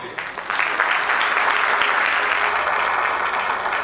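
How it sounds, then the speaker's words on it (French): Graduation ceremony audience breaks into applause for themselves, a brief quiet start swelling into loud, dense, sustained clapping from a large crowd. "Applaudissez-vous vous-même."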